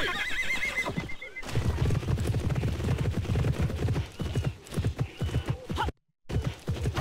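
A horse in the video game Alexandra Ledermann Le Haras de la Vallée gives a loud, close whinny, then its hooves clip-clop steadily, broken by a brief moment of silence near the end.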